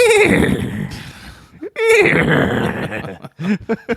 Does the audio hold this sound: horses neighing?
yes